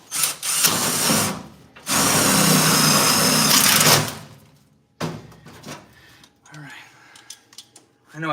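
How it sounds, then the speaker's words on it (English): A power drill bores a hole into a car body, whining loudly in two sustained bursts, then stopping and restarting in shorter pulses. "I will drill a better hole."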